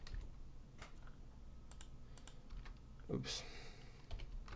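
Typing on a computer keyboard, soft quick key taps in short clusters close to the microphone, with a brief spoken exclamation partway through.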